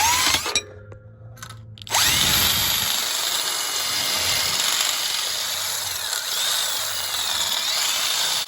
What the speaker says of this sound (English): So I take my drill bit and I drill here